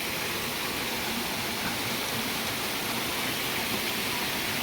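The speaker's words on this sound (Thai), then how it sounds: "น้ำตกตาดอย่างเลย" Steady rushing of a waterfall near a forest temple in Laos, a full, even roar of falling water heard up close with no other sounds standing out.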